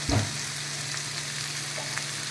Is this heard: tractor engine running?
no